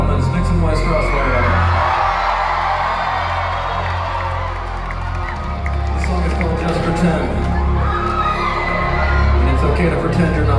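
A crowd at a live concert on May 14, 2022 cheers, whoops and yells in a loud, continuous roar over a low rumble from the venue, with a brief dip midway before swelling again.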